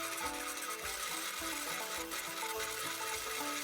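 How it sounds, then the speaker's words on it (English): Oscillating spindle sander with its smallest drum rounding the lanyard hole of a handmade knife handle, a steady close abrasive rasping hum with slight rhythmic variation, heard alone. "we're going to take my smallest attachment for my oscillating spindle sander and we're just going to round that."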